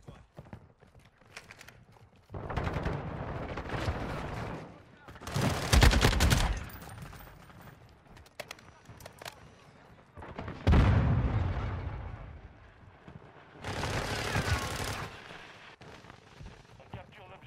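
Bursts of automatic gunfire from a sentry turret on a rooftop in Call of Duty: Modern Warfare 2, loud rattling volleys coming in several long stretches with game noise between them, and players talking at times.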